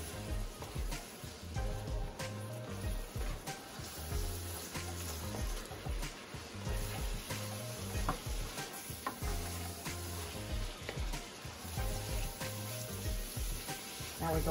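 Green chilies and garlic sizzle steadily in a frying pan, with repeated scraping of a utensil as they are stirred in a rhythmic pattern throughout.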